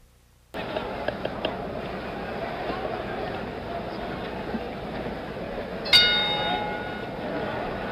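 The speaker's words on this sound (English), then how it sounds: "The bell for round 7" A boxing ring bell clangs once to signal round 7 of the George Foreman vs Jimmy Young fight, a sharp ring rising over steady arena crowd noise and commentary.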